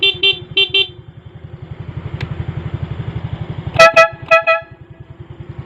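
An aftermarket dual horn on a motorcycle honks loudly in short bursts, first two quick toots, then an idling engine putters steadily before a louder cluster of four blaring honks.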